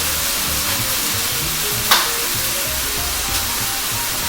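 Loud, continuous close-up sizzle of floured beef tips browning in a hot pan, with a single sharp tap of a utensil partway through.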